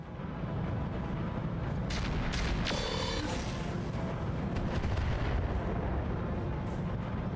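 Weapon rounds slam into a Thunderhawk mech in Battletech as a dense, continuous roar of explosive impacts and rumbling booms, with a few sharper cracks standing out early on.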